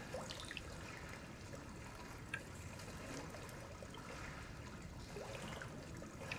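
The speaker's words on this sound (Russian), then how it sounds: "опять что-то булькает" Gurgling, trickling water in the horror game Resident Evil 7, a steady low bubbling wash with faint drips, continuous and moderately quiet with no talk.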